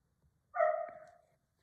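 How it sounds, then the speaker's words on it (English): A single dog bark or yelp at a window indoors, one short clear call heard at moderate distance against a quiet background. "Oh, these dogs are just at my window."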